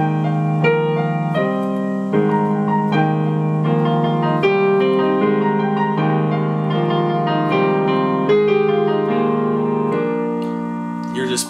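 Piano playing the pre-intro chords of a song, a loud, steady run of repeated sustained chords with clear harmonic notes and no voice over them.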